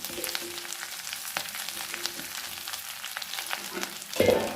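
Drumstick leaves frying in a pan crackle and sizzle steadily at moderate volume, with scattered stirring clicks and a louder scrape at the finish, no voices.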